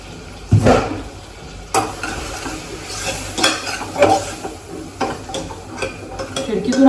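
Spiced mutton masala is stirred and sautéed in a pan at home, with repeated close scrapes and clinks of a spoon against the pan over a faint sizzle.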